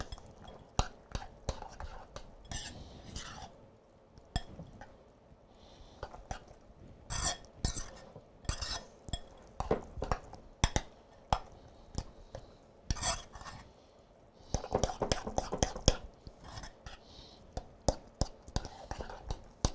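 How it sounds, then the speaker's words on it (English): A spoon mixes small curd cottage cheese in a bowl in a home kitchen, giving repeated wet scraping and stirring strokes in irregular bursts, close and moderately loud, with quiet pauses between. "And 1 cup of small curd cottage cheese. I'm going to mix that up well."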